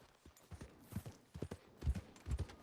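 A red horse in Red Dead Online gallops with quick, rhythmic hoofbeats clip-clopping close by, growing slightly heavier toward the end, with no voices.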